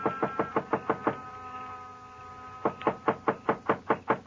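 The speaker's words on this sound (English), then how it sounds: "I knocked." Knuckles rap on a door in two bursts of six quick, evenly spaced knocks, close and crisp, separated by a short pause of quiet room tone.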